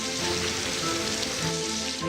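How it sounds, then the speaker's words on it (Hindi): Dense, steady rain hiss with pattering drops on a surface, used as a short sound effect in a weather bulletin promo, loud and continuous with no voice over it. "बारिश का हाल,"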